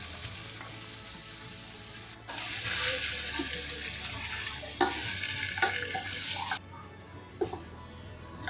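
Lentils sizzle in hot oil in a pot for khichuri, a steady close frying hiss with stirring scrapes and clatters, no talk.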